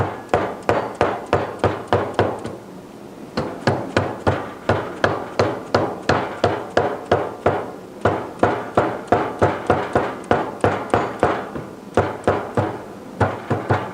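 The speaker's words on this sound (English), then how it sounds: "First step is to take and tap the flange away from the starter." A hammer taps a flange away from a vehicle starter in quick, even, close metallic knocks. Dozens of strikes fall in steady bursts, with one short pause after the first run.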